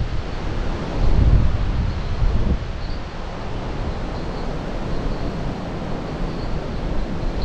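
Strong wind blows steadily across a hill campsite after rain, a loud continuous rushing roar with buffeting gusts on the microphone, strongest early on, with no voices.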